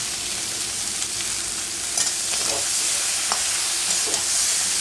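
Bengali-style chicken curry sizzles steadily as it is stirred and fried in a pan, with a constant close hiss and occasional scraping clinks of the spoon, no voices.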